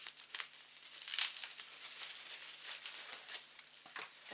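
Scissors cut open a crinkly package, with papery rustling and tearing close by, and no one talking.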